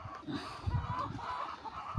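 Free-range chickens cluck and murmur in low, overlapping bursts, a close flock chattering softly for a couple of seconds.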